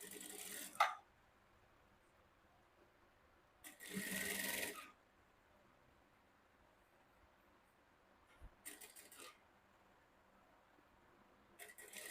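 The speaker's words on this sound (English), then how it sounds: "So let's get going and sew this up other side down." A sewing machine stitches Ankara fabric shorts in short separate bursts, one longer run of about a second among brief quick spurts, close and fairly quiet with near silence between.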